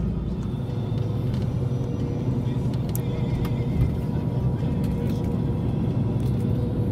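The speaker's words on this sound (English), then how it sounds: "The bus follows the D8 road" A bus drives along the coastal D8 road from Split to Dubrovnik, giving a steady, loud engine rumble and road noise heard from inside, continuous and unchanging.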